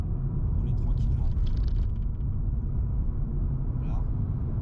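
Car with a learner driver rolling slowly through roadworks, a steady low engine and road rumble heard from inside the cabin, continuous and even throughout.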